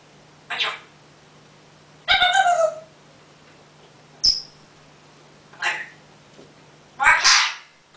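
Five brief sneezes sound close by, spaced a second or two apart, with the later ones stronger, over a quiet room with a low constant hum.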